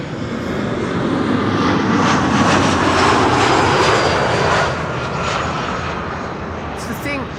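A KLM Embraer 175 airliner arriving from Berlin at Amsterdam Schiphol roars overhead, building to a loud peak and then fading to a lower rumble, with a brief faint sound near the end.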